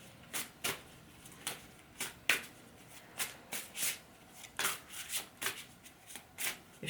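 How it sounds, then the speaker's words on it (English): A deck of cards being shuffled repeatedly, about a dozen crisp riffling bursts in a steady uneven rhythm, close and fairly quiet with no talking. "Let me just pull a card from another deck."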